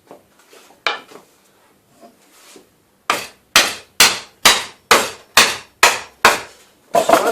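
Metal is bent over a piece of timber with repeated hammer blows, a few light taps at first and then a regular series of about ten loud, sharp strikes close by.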